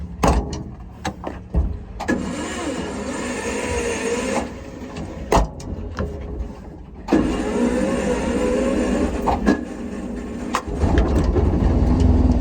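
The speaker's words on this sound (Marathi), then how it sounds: "आता आपण करणार ढक्का स्टार्ट गाडीला" A stalled car is push-started: a rough, sustained mechanical rumble and rattle comes in long stretches broken by sharp clunks and knocks, fairly close and loud, with no speech.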